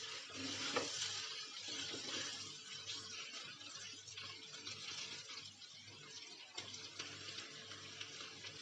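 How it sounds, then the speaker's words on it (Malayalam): Onions fry in a Kerala clay pan over low heat, a soft, continuous sizzle with gentle stirring scrapes, quiet and close. "ഇതിങ്ങനെ ഇളക്കിക്കൊണ്ടിരിക്കണം, അല്ലെങ്കിൽ അടിയിൽ പിടിക്കും കേട്ടോ."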